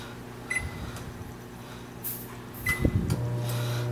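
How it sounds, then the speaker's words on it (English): An apartment microwave oven hums steadily at low volume, with a few faint clicks and knocks around it and a button beep near the end, no talking. "the microwave works"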